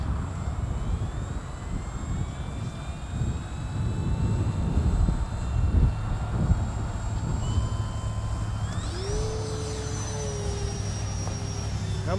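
An E-Flite Turbo Timber 1.5m RC airplane flies outdoors with a continuous electric motor whine and propeller drone, its pitch sweeping up and down as it passes, over steady wind and ground noise.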